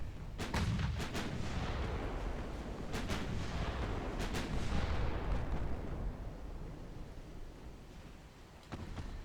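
Naval guns fire at an enemy ship in a 1910-era naval warfare video game: several booming salvos, some in quick pairs, each rolling into a long rumbling decay, loud and without speech.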